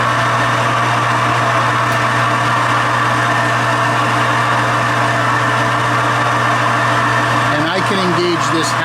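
An antique metal lathe runs steadily during single-point threading with the half nut engaged, a loud continuous motor and gear drone with a brief shift of pitch near the end.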